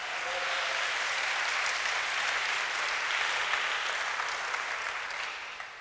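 A church congregation claps through a worship service, steady and dense applause filling the room from start to finish with no voices rising above it.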